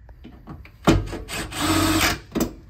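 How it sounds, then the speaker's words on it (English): Power drill driving a self-tapping screw into a roof and wall beam structure kit, a short motor whir rising and holding for about a second, followed by a brief rattle, close and fairly loud. "We can go ahead and run a self-tapper into that."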